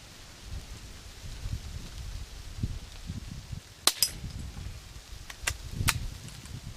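A few sharp, light gunshot cracks from a Remington 510 Targetmaster .22 bolt-action rifle, roughly three spread over several seconds, over a steady low rumble of background noise outdoors.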